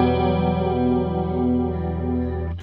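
A sustained guitar chord rings through an effects pedal set to mode four, at its fastest rate and deepest setting, with a steady wavering modulation across the held tone before it cuts off.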